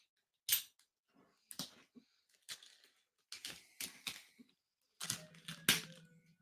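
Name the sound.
Italian letter opener opening packaging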